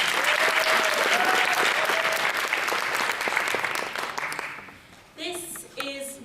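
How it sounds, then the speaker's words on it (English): An audience at a poetry audition for the Library of Birmingham Young Poet Laureate applauds in a dense, sustained burst that gradually thins and fades, followed by a voice beginning to speak. "Can we have a round of applause for Neanderthal for Day?"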